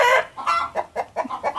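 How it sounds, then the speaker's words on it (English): Chickens cluck loudly and rapidly up close, a burst of squawks followed by quick repeated clucks. "Chickens are going wild out here."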